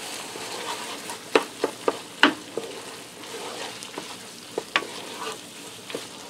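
Ground hamburger with Worcestershire sauce stirred in a pan, a low sizzle under a run of distinct sharp clacks and scrapes from a utensil against the pan at an irregular pace, no speech.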